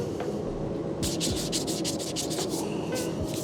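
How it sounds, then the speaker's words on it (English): Sandpaper worked by hand over a car body panel on a widebody Subaru WRX: a run of quick rhythmic scratchy strokes over a low background hum, close up and without speech. "I think I'm gonna use that last piece of sandpaper."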